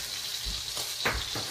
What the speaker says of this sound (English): I'm actually gonna throw a couple sliced garlic pieces in here towards the end and get them kind of crispy